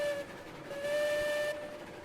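Steam locomotive whistle from a logging railroad in the Railroads Online video game, one sustained two-tone blast of about a second and a half before it cuts off, moderately loud over faint background rumble.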